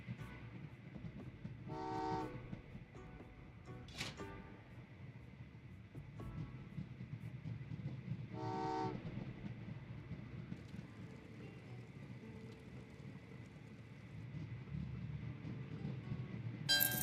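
Trains run in the Train Valley 2 video game over a steady rumbling drone, with two short tooting horn blasts and a few clicks rising above it, without talk.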